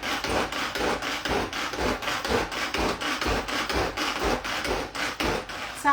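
A pull-string manual chopper minces salmon and shallot with a fast, regular series of loud grinding, rasping pulls, roughly two each second, with no talking.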